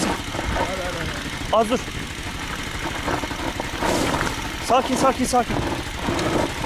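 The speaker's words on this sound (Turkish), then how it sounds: "Hiç panik yapma, motor durmuyor." A motorcycle engine idles steadily and keeps running, a low continuous rumble beneath nearby speech, with a few brief louder rises in the middle and near the end.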